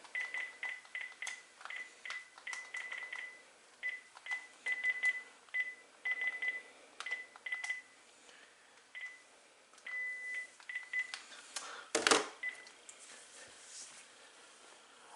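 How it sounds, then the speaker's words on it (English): A Panasonic KX-TG5243 cordless phone gives off a long run of short beeps and tones as numbers are keyed in, quick and rhythmic with brief pauses, close and fairly quiet, broken once by a sharp louder click. "Okay, let's edit the number. Of course, I have to call this one out Aaron."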